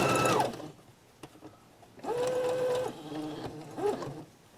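A sewing machine stitches a fabric face mask in several short runs of steady, close whirring, the motor speeding up and easing off between passes.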